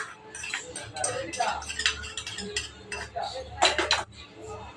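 Ghee-roasted cashews and raisins tipped into payasam, with metallic clinks and scrapes of a spoon and vessel, short bursts of clatter near the end, faint background murmur.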